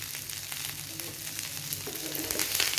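Prawns frying in a pan as curry leaves go in, a soft close crackling sizzle with light stirring that grows slightly louder toward the end.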